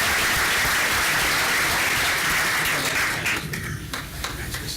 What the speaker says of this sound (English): So if you could give everybody a round of applause.